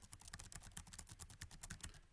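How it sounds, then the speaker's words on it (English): Typing on the keyboard of an MAG-15 gaming laptop, a fast steady patter of light key clicks close by and fairly quiet, running continuously for about two seconds with no voice. "And this is what it's like when you type on the keyboard."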